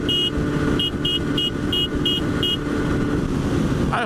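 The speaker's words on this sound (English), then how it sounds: "there's the thing about motorcycle horns" A small, dinky motorcycle horn gives about seven short, evenly spaced high beeps over steady road and wind rumble from a moving bike.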